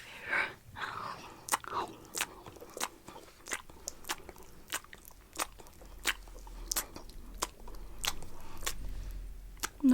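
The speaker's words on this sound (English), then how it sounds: "I feel like it's just so satisfying to chew on and it makes the best sound out of all of them" Pink Oreo cookie being bitten and chewed close to the mic, a run of sharp crunchy bites followed by steady moist chewing and soft crackles, with no talking.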